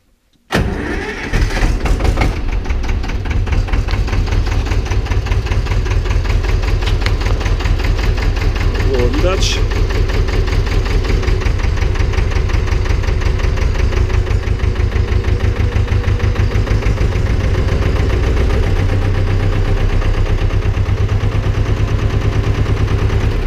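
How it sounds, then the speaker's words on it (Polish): An Ursus C-330 tractor engine cranks and catches within the first seconds, then settles into a loud, steady, chugging idle that continues to the end. "Dobra, teraz zapalimy ciągnik."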